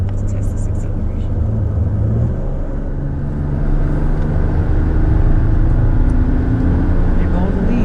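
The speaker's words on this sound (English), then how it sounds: "All right, let's test this acceleration." A 2019 Toyota Tacoma SR pickup accelerates, its engine rumbling low and building steadily for about eight seconds, a loud near drone that rises in intensity toward the end.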